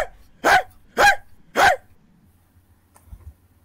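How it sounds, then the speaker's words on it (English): A stray German Shepherd mixed with pit bull barks three times in quick succession, loud and close, with short even gaps, then falls quiet apart from a faint low rumble. "that's a German Shepherd mixed with a pit bull"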